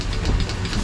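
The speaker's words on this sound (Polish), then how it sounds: "pompa się załącza" A small electric water pump in a camper van kicks on as a tap is opened, giving a steady low hum with a faint rhythmic pulsing, close and continuous with no knocking.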